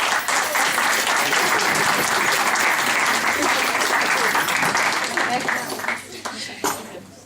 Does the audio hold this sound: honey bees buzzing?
no